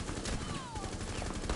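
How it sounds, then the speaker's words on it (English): Shotgun blasts and gunfire in Rainbow Six Siege, dense and continuous over a noisy game mix, with chatter underneath. "I was point blank with my shotgun"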